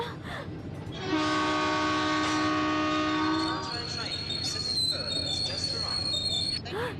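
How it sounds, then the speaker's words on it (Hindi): In a movie scene, a train pulls away with a long, loud blast of its horn over a rumbling roll of wheels and carriages, and voices can be heard through the noise. "ट्रेन वापस जाने लगती है।"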